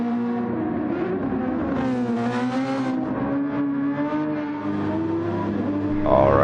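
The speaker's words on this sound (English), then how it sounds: "see what it sounds like with some engine noises in the background as well" Race car engines from the Grand Prix Legends sim racing game drone steadily throughout, with sustained harmonic engine tones rising and falling as cars rev and accelerate, and a louder surge near the end.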